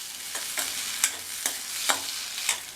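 Fried raw banana pieces are stirred into masala in a hot oily pan: a steady sizzle with rhythmic spatula scrapes about every half second, close and alone.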